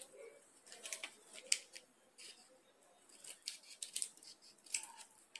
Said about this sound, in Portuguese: E aqui nós vamos cortar em diagonal, ó.